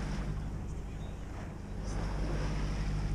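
Steady, close engine drone of a sailboat motoring in near-windless conditions off Cap Corse, Corsica, with a constant low hum and broadband wind and water hiss throughout, no voices.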